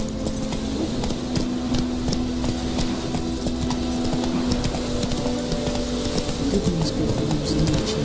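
Roach the horse trots in The Witcher 3: Wild Hunt, hooves clip-clopping in a steady close rhythm while birds coo and chirp around, over a constant low ambient hum.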